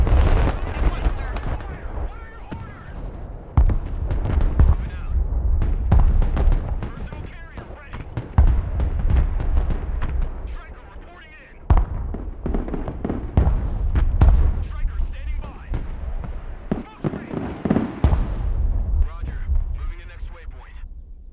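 PzH 2000 self-propelled howitzers fire in the Broken Arrow war game, repeated heavy booms and blasts rolling one after another with rumbling low-end tails, while radio-style voices talk over the barrage.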